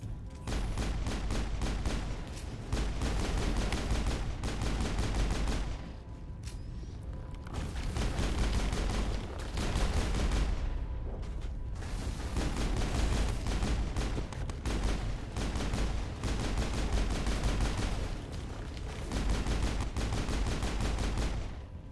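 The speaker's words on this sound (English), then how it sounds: "I love the pistol in this game" Pistol shots from the video game Mass Effect ring out in rapid, sustained bursts, dense and loud, with brief lulls between volleys amid battle sounds.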